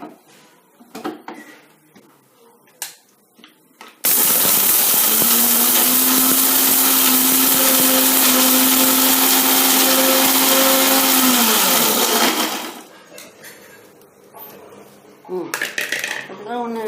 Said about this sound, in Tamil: அதை மிக்சியில் போட்டாச்சு